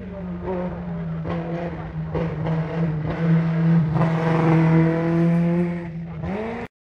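Race car number 127 at the Buzet hill climb roars past nearby, its engine note climbing through gears to a loud peak before cutting away abruptly, with spectators talking underneath.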